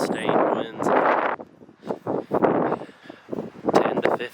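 Strong gusting wind buffets the microphone at a North Carolina campsite, coming in loud rumbling surges over a voice.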